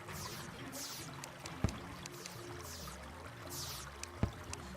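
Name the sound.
water pumps pouring water in Terraria, a video game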